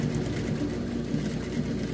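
A sewing machine runs a backstitch on a finishing seam of a pet harness, a steady close mechanical whirr that lasts throughout without talking.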